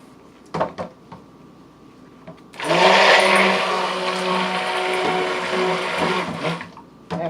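Soap batter whirred with an electric stick blender, a loud, steady motorized buzz that starts after a few light clinks and runs continuously for about four seconds before stopping.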